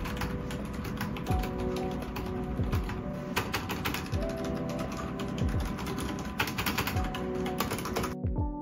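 Steady, fast clacking of a mechanical keyboard with double-shot PBT keycaps, keys tapped in quick irregular bursts close up, with no talking over it.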